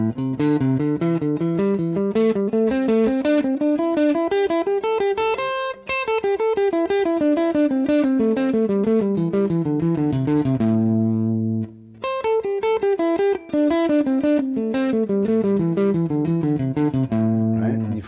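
A clean, sustained electric guitar runs rapid three-note scale sequences up and down the neck, notes flowing continuously with brief pauses between phrases.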